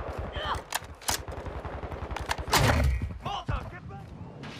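Rapid gunfire from a Call of Duty Modern Warfare 2 match, with bursts of shots and heavy thuds repeating over a few seconds, mixed with game sounds and a player talking over it.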